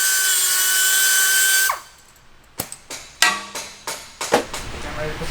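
A Dremel rotary tool whines steadily at high speed cutting off small metal ears during work on a Procharged truck, then cuts out abruptly, followed by a series of scattered clicks, knocks and short bursts nearby.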